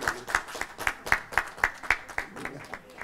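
Rhythmic applause for an honoree at an academy ceremony, a dozen evenly spaced claps that sound like a few people clapping in unison, fairly close, with some voices faintly underneath.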